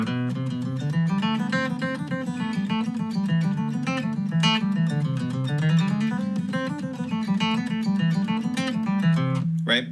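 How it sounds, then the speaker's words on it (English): Fiddle playing the A part of the old-time tune Billy in the Low Ground, a brisk run of quick bowed notes over a low droning string, bright and close, continuous with no voices. "there's a tune called Billy in the Low Ground, and the A part sounds like this"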